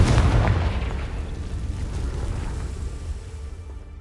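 A Confringo fire spell blast in Hogwarts Legacy erupts as a loud booming explosion at the start, then decays into a long rumbling tail that fades over several seconds.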